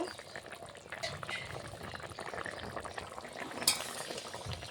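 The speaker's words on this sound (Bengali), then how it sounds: "ঝোলটা ফুটে উঠেছে" Potato and bitter gourd fish curry boiling in a pot, with a soft, continuous bubbling and a few faint clinks of a spoon, close and quiet, with no talking.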